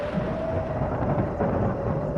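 Thunder rolls through a storm as a horror story sound effect, a sustained, heavy, low rumble filling the whole stretch with a faint steady tone underneath.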